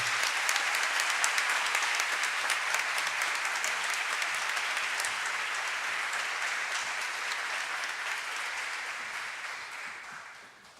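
Sustained audience applause at a city honorary citizenship ceremony, steady bright clapping from many hands that holds for several seconds and tapers off at the end.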